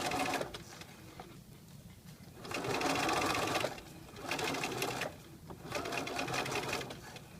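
Domestic sewing machine stitching a centered zipper: steady whirring runs of stitching in three or four bursts separated by brief pauses, close and moderately quiet, with no talk.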